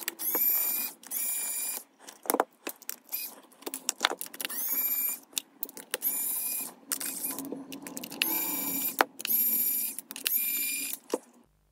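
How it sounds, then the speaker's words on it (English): Screws being backed out of a military-grade industrial DA5 PDA during disassembly: close, crisp bursts of ratcheting clicks and small metallic ticks, repeated in short runs with brief pauses. "There is a bunch of screw that have to be removed, and we are going to do exactly this."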